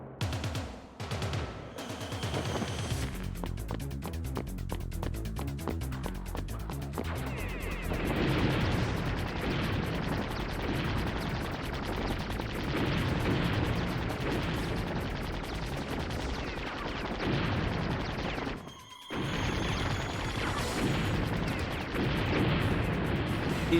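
Mortar explosions in the game MDK, heard as repeated sharp blasts over a dense, roaring battle din, with a brief dropout before the booming resumes.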